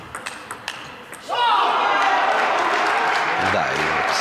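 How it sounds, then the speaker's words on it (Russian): Applause breaks out in the crowd at a Russian table tennis championship semifinal, following a few sharp ball pings. The clapping swells and holds steadily while a commentator talks over it. "Мы слышим аплодисменты."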